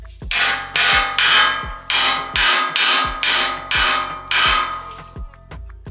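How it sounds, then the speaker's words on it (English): Hammer smacking a steering knuckle during an off-road upper control arm install: about ten loud, evenly spaced metallic blows with ringing decay, close up and alone. "We're just going to smack the knuckle with a hammer and see what happens."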